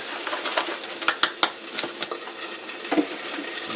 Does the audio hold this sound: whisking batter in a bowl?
yes